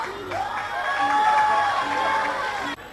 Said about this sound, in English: can you cheer for yourself now?